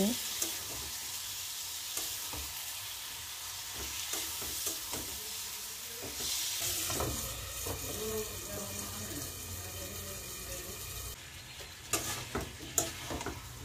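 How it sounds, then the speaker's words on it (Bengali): Bottle gourd pieces with turmeric fry in a hot pan in a home kitchen, a steady sizzle broken by repeated stirring scrapes and clatters, with running water briefly joining near the end. "এবার আমি লাউটা দিয়ে দিব, লাউটা ভালো করে কষিয়ে নেব"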